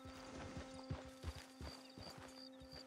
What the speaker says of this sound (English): He's a happy horse, he's been fed.